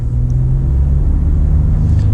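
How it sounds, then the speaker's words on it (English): A 2020 Ford F-150 STX pickup with a turbocharged engine accelerates, heard from inside as a loud, steady low engine rumble and road drone that holds throughout with little change. "Now let's get a little acceleration with the STX."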